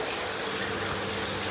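Water churning at the surface of a large indoor pond holding sharks, agitated to add oxygen; a steady, close, broadband rush and splash like a gushing tap runs unbroken throughout, with no voices.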